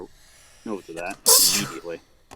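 A person sneezes once, a sharp loud burst in the middle of the clip, with brief speech before it.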